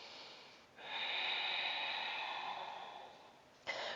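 Slow, steady breathing during a yoga breath cycle: one long, airy exhale lasting about three seconds, followed by the start of a sharp new inhale, close and alone with no talking.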